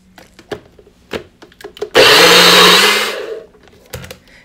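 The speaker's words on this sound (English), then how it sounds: "I'm going to go ahead and add some here to my blender cup, some water, and then I am ready to blend it." A blender whirs loudly for about a second, chopping cantaloupe with water in a blender cup, then winds down; a few soft knocks and clicks come before and after.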